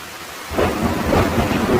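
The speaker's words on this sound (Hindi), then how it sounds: "बारिश बहुत तेज थी।" Heavy rain pours steadily while a deep roll of thunder swells in partway through and rumbles on, loud and close.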